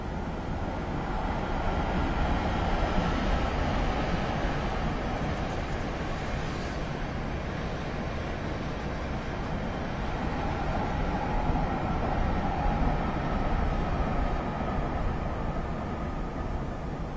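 A passing train in Train Simulator 2016 on the North Jersey Coast Line near Newark, a steady broad rumble and roar that holds at an even loudness throughout, with no talk over it.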